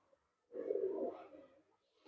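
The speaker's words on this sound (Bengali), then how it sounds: "খুব সুন্দর কোয়ালিটির পায়রা দেখুন বন্ধুরা" A Madrasi pigeon in a loft gives a single soft, low coo lasting about a second, close and alone in an otherwise quiet space.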